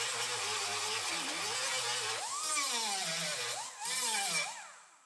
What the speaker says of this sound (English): so we'll grind those off real quick.